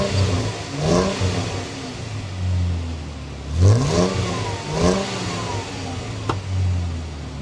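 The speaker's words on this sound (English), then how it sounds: "Let's start her up, and let's see what the new exhaust note on this JK is." A Jeep Wrangler JK V6 with an aftermarket exhaust cranks and fires up, then revs several times in throaty bursts before settling to a rumbling idle, close by and loud.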